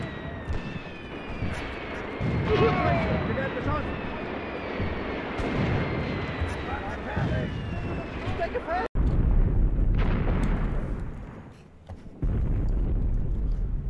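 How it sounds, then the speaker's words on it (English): Heavy artillery bombardment in the WWII tactics game Graviteam Tactics: Mius Front, with loud, dense rumbling blasts and booms rolling continuously, a sharp cut near the middle, and faint voices mixed in. "tremendous rounds going out from our side"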